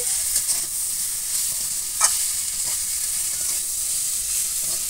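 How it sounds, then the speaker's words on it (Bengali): Fried small fish being gently stirred into a tomato curry, a steady bright sizzle with soft stirring strokes and one clearer scrape or clink midway, close and alone. "মাছটা দিয়ে খুব জোরে নাড়া যাবে না হালকা করে নাড়তে হবে"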